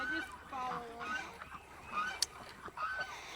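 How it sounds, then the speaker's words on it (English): Nasal honks and quacking calls from several ducks and geese close by on a farm, overlapping irregularly, with a sharp knock partway through. "these ducks and geese know it, so they're coming for it"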